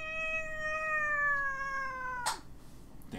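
A pet cat gives one long, clear, sustained meow up close, its pitch sliding slightly downward, then cuts off with a brief rustle of movement and quiet room noise.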